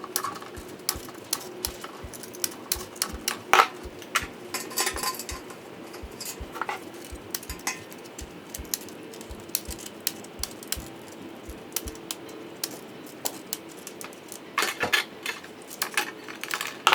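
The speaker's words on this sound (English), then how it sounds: "now I'm going to kind of like trim off the excess with my snips again" Tin snips trimming excess galvanized metal sheet, a rapid series of sharp, close metallic clicks and snips with faint rustling between cuts and no talking.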